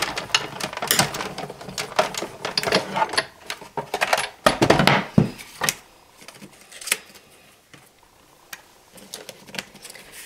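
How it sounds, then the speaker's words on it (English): A die and blue cutting plate cranked through a manual die-cutting machine, giving a run of close, loud mechanical clicks and grinding rattles that stop partway, leaving quieter handling sounds. "put my blue plate on top, crank it through my machine"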